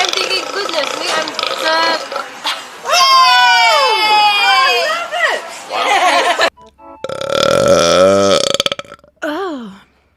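A series of long, loud, drawn-out burps with rising and falling tones, several in a row with short gaps, close up and dominating the sound.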